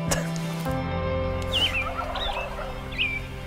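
Wild turkeys gobble in bursts at several distances during spring in Nebraska, their rattling calls echoing over a steady outdoor background with no talking.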